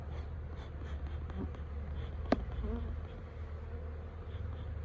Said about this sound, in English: There's bees up in the lid.